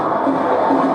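Handball arena crowd cheering a goalkeeper's save, a brief dense roar of many voices, loud and steady.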